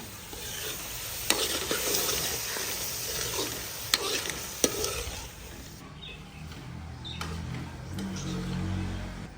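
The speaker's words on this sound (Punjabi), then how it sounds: "ਗੋਸ਼ਤ ਨੂੰ ਨਾ ਚੰਗੀ ਤਰ੍ਹਾਂ ਭੁੰਨਾਂਗੀ।" Goat meat sizzling and being stirred in a hot pan in a village kitchen, a steady frying hiss with a few sharp clicks of a utensil scraping the pan, no talking.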